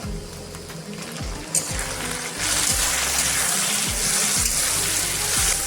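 Tomatoes dropped into a hot pan of beef khiri sizzle and hiss steadily, the frying swelling louder partway through and holding as a dense, close wash of bubbling noise with low clunks from the pan.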